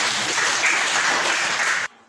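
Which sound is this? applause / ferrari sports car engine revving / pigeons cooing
applause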